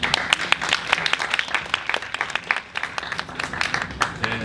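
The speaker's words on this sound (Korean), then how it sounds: "박수로 모시겠습니다" Audience applause at the opening ceremony of an art tower, a dense patter of many hands clapping at moderate loudness, irregular and lively, continuing for several seconds without speech.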